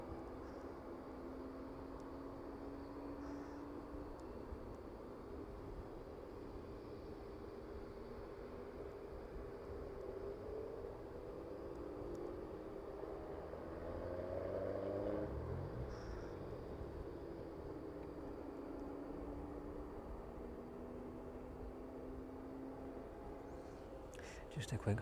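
A jet airliner taxis at East Midlands Airport, a steady distant engine whine and rumble that swells briefly midway, with a voice talking over it intermittently.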